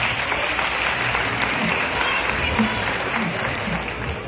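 Sustained applause from an audience at a book fair event, a dense, continuous roar of clapping at an even, loud level with faint voices mixed underneath.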